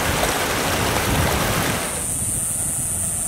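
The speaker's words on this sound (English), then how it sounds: "we'll just finish off with some nature sounds here of the creek and the cicadas up in the trees" Sabino Canyon creek rushes loudly over rocks for a couple of seconds, then drops away to leave a steady high, shimmering drone of cicadas up in the trees.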